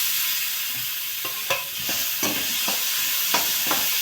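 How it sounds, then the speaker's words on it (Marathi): Tempering sizzles in a pan for paneer bhurji, a continuous close frying hiss with several sharp stirring scrapes and clinks spaced through it. "हे घालून देऊ आपण आता, कारण फोडणी होत आलेली आहे."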